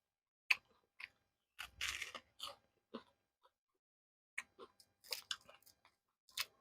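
Crunchy fried food is bitten and chewed close to the mic in sparse, separate crunches and mouth sounds with quiet gaps between them.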